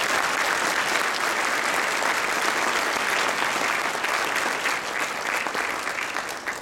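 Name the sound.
applause for sponsor Suncor Energy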